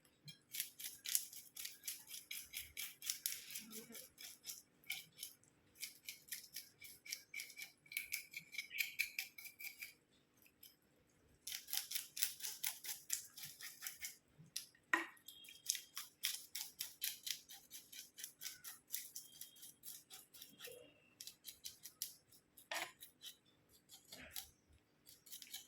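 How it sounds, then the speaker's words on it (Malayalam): Scales are scraped off a parava fish in quick, close, crisp rasping strokes that come in rapid repeated bursts with short quiet gaps between them, fairly faint overall. "ഇത് ചെതുമ്പിലുള്ള മീൻ, അപ്പോൾ ഇത് ചെതുമ്പി എടുക്കണം"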